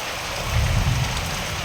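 Steady rain pours down in a dense, continuous hiss with a low rumbling undertone, close and fairly loud throughout, with sunshine out at the same time.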